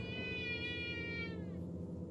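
A cat gives one long, loud, drawn-out meow, plainly calling for attention, close to the listener, with a low steady hum of background noise underneath.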